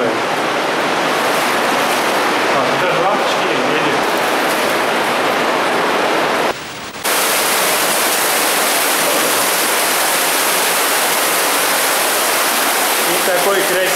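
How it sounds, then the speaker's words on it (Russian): Steady, dense rush of a small waterfall in an underground river beneath Moscow, falling over a cable reel, continuous and fairly loud, with a brief dip in the middle before the splashing resumes. "И такой красивый маленький водопадик, образованный бобиной для провода"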